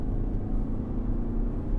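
An Audi Q7 with a 4.2 V8 accelerates hard from inside the cabin, a loud, steady low engine drone and road rumble filling the cabin without letup.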